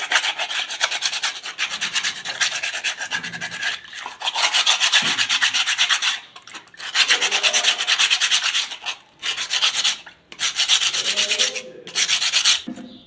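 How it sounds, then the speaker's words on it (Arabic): Someone sands a polyester piece by hand with sandpaper, making loud, close, rhythmic rasping strokes in long runs broken by short pauses. "هتديها صنفرة لغاية ما الزفرة تطلع"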